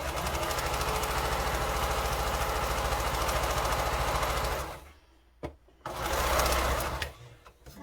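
A sewing machine stitches a quilt block in a fast, steady mechanical whir for about five seconds, then stops, gives a brief burst and runs again briefly; close and loud, alone.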